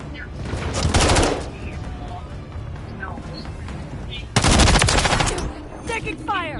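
Gunfire in the video game Modern Warfare 3, with two loud bursts of rapid automatic shots over steady background battle noise, while voices talk in between.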